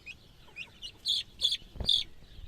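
A young chick squeaks in a series of short, high, sharp peeps, close and fairly quiet, with no talking.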